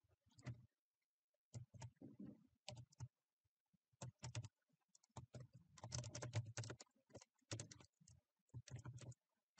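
A computer keyboard is typed on in short irregular bursts of quick, close clicks while a Google Form title is entered, with brief pauses between words and no talk.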